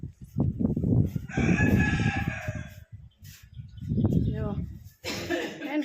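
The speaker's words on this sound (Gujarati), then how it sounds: "જો મિત્ર કુકડા" A rooster crows loudly nearby, two long drawn-out calls separated by a pause, with someone talking over and between the crows.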